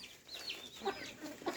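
Chickens and a rooster clucking close by in a village yard, several short squawks and clucks in quick succession at moderate volume.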